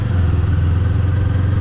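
Kawasaki Eliminator motorcycle powered by a Ninja 400 engine, running with a dense, even engine drone and rapid low pulsing, close and steady throughout, with no voices.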